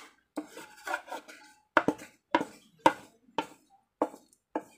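A spoon stirring kue nona manis batter in a bowl, producing a series of distinct clinking, scraping strokes at an uneven rhythm, close and fairly quiet with silence between strokes.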